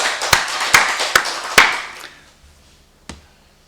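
Congregation clapping during a Wednesday church service at a Full Gospel church: several sharp, close claps spaced across the first two seconds, then a fading wash and one late isolated clap in a quiet room.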